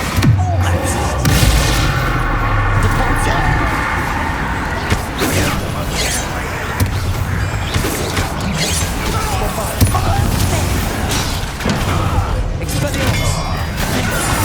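Booming spell blasts and clashing combat effects fill a Hogwarts Legacy battle, dense and loud throughout, with a voice calling out spells over the noise.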